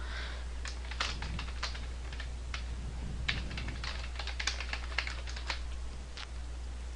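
Fingers type on a computer keyboard, producing irregular light key clicks at close range over a low steady hum, with no talking.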